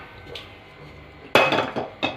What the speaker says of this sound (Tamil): நான் வந்து இன்றைக்கி ஒரு வரைச்சட்டி வச்சுக்கிறேன்.